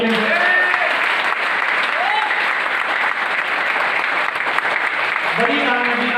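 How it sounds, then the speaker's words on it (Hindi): An audience at a meeting breaks into sustained clapping, dense and loud throughout, with a voice speaking briefly over it at the start and again near the end. "ताली बजा के बता सकते हैं?"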